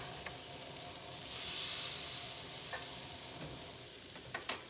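Butter sizzles in a frying pan as matzah brei is cooked, a steady hissing fry that swells midway, with a few soft clicks of a utensil against the pan.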